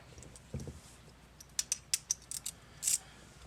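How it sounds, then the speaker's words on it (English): A 1/4 inch drive ratchet with a 7mm socket working on the dash of a 1994 GMC Suburban during an evaporator core replacement, giving a quick run of sharp, close ratchet clicks over a quiet background. "Then you're going to want to get a 7mm socket. I'm using 1/4 inch drive."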